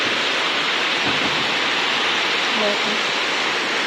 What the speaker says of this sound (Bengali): মুসলধারা বৃষ্টি তো একেই বলে